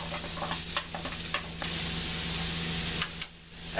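Onions fry in a pan and give a steady, close sizzle and hiss, broken early by a few scrapes of stirring, with no voices.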